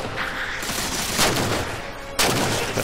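DMR rifle shots in Halo 4, a few sharp booming cracks with a heavy report, the last one loud and abrupt, over a noisy game backdrop.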